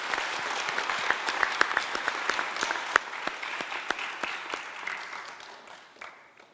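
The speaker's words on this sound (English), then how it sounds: "Let's give our flautist another round of applause." Audience applause at a Bengaluru arangetram, greeting the flautist with dense, steady clapping from a crowd that carries on for several seconds and then thins out toward the end.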